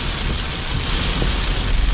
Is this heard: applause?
no